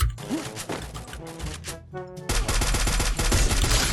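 Rapid bursts of automatic gunfire from the Free Fire battle game, loud and close, with dense overlapping shots, a brief lull near the middle, then a sustained heavy volley.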